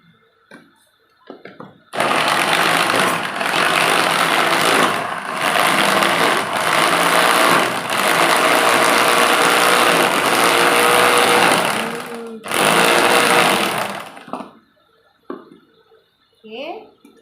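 A kitchen blender grinds turmeric and red chili for a pindang tempoyak spice paste, a loud steady motor roar running about twelve seconds with a short dip near the end before it cuts off.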